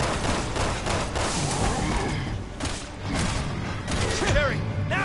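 Gunfire in the Resident Evil 6 video game, a dense fusillade of shots and thuds running steadily through the clip alongside in-game voices and other effects.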